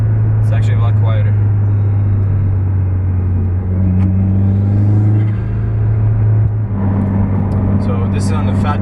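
Exhaust from a car fitted with an Invidia R400 and a MAPerformance J-pipe on a 91-octane tune gives a steady, deep close-up rumble, with a brief mild rev partway through before it returns to a low idle.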